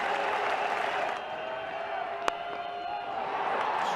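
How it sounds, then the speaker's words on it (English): A large cricket crowd at the 2002 NatWest final between India and England roars and applauds in a sustained wash, with a commentator's voice over it. "Huge cheer here."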